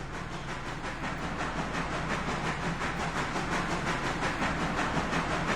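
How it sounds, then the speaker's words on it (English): A 10-wheeler steam locomotive in the Railroader game hauls a heavy passenger train, giving a loud, steady rumble with hissing steam and a faint rhythmic clatter of wheels running on throughout. "How's the 10-wheeler handling the weight of that passenger train?"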